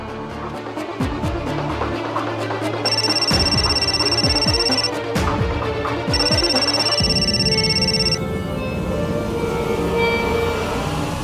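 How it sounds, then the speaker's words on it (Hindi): A telephone rings out during an unanswered call, repeated electronic ring tones in two spaced bursts over a dense, dramatic music bed with low pulsing swells. "इश्की तो फ़ोन नहीं उठा रही है।"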